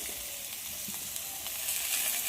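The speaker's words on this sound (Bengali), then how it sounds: "আবারও সব কিছু খুব ভালোভাবে ভেজে নেব" Mixed vegetables with strips of bottle gourd fry in a pan with a steady, close hiss of sizzling oil, broken by faint stirring touches and swelling slightly toward the end.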